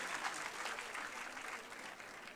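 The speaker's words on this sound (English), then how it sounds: "Give them a big round of applause, please." Audience applause at a senior secondary school prize ceremony for students and teachers, a steady dense clapping from a large crowd filling the whole stretch at moderate distance, no voices over it.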